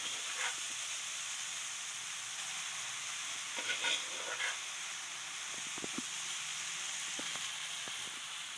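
Chilli garlic rice made with thulasi rice being stirred in a frying pan, giving a steady quiet sizzle and hiss with a few soft scraping strokes spread through, no voices.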